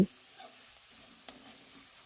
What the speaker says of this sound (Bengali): সমস্ত মশলাটা ভালো করে কষিয়ে নেব